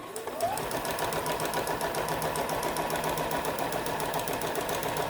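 A sewing machine stitches applique shapes onto quilt fabric at a short stitch length, a steady rapid mechanical whir with a fast needle pulse running nonstop throughout, close and even.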